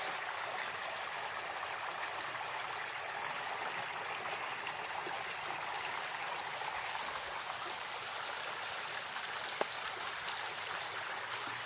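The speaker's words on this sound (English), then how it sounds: "I made it to the creek." A woodland creek flows in a constant, even rush of water, close and uninterrupted, with no voices over it.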